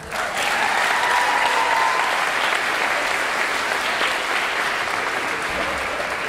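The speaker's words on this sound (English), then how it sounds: "Give yourself a round of applause." A graduation audience breaks into loud, dense applause that swells quickly and holds steady, a large crowd clapping continuously with little else audible.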